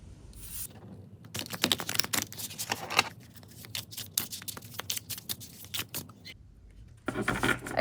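Matte-finish oracle cards being overhand shuffled make repeated soft swishy riffling bursts in close, irregular clusters with brief pauses, near and fairly crisp, with no voices.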